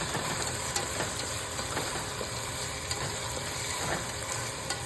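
Onions fry in a pan for a prawn curry, sending up a continuous close sizzle and hiss with soft stirring noises and no voices.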